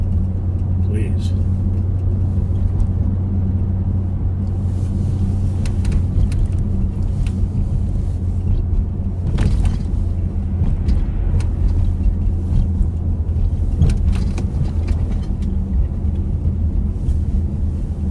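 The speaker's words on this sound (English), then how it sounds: "I bet that's Kevin's car." Steady low rumble of a car engine and road noise, as from inside or near a moving car on a wintry street, continuous throughout with people talking over it.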